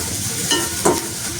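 Food sautéing in a pan, a low steady sizzle with two brief stirring scrapes standing out near the middle, close and with no speech.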